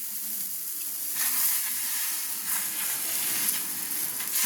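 Patishapta batter sizzles on a hot oiled tawa, with a steady frying hiss close up that swells a little after the first second and stays constant with no talk over it.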